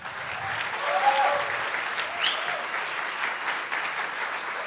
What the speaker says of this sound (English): Please give a nice, warm round of applause to Petra Costa.